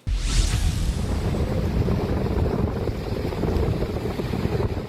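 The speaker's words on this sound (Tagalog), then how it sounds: "makikita ang malakas na pagragasa ng tubig sa San Gabriel Road" Floodwater rushes continuously in a dense, roaring wash during heavy typhoon rain on San Gabriel Road in San Juan, La Union, Philippines, with wind buffeting the microphone and no voices.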